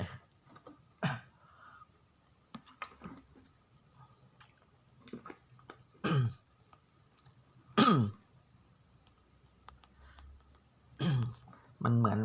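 A man clears phlegm from his throat after eating sticky longan fruit, several separate harsh, close throat-clearing bursts with quiet gaps and faint background clicks between them.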